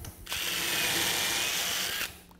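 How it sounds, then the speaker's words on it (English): A power drill pre-drilling a pilot hole in a shaker-style cabinet door, with a short, fairly quiet high whirring run of about two seconds and a brief hiss as the bit bites in. "We're going to pre-drill."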